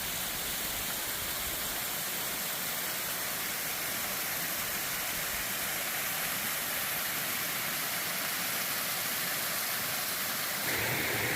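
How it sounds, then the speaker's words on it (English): A small waterfall cascades beside a steep trail on the Appalachian Trail, its steady, full rushing wash heard up close and unbroken throughout. "it follows a little cascade"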